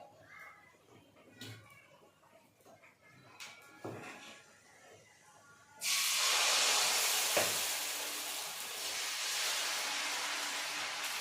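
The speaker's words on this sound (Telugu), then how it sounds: "ఇప్పుడు మనం దోశ వేసుకోవాలి" Onion dosa batter hits a hot, lightly oiled pan with a sudden loud sizzle that starts midway and hisses steadily to the end. Quiet kitchen clatter and faint background voices come first.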